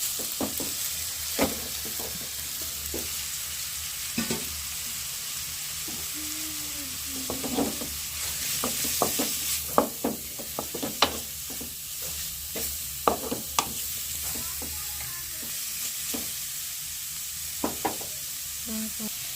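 Onion with grated beetroot and carrot frying steadily in a pan on a wood-fired stove, a constant sizzle under repeated knocks and scrapes of a spoon stirring, close and continuous.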